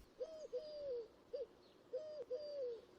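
A turtle dove coos in a quiet churchyard at a Romanesque church in Yorkshire, giving soft, low, repeated phrases in two clusters at moderate distance over faint background ambience.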